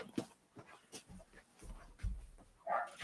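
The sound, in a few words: Shih Tzu and pit bull dogs reacting to someone at door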